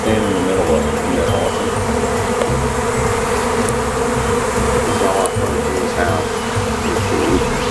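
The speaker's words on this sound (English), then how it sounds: "But I'm standing in the middle of a swarm. It sounds like a bee tornado." A huge swarm of bees descends all around, a dense, loud, unbroken buzzing drone that fills the space close to the listener without letup.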